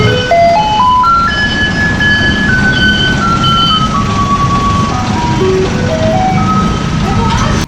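A garbage truck in Tainan, Taiwan plays loud ice-cream-truck-style melody in steady electronic tones over constant street and traffic noise, continuous throughout.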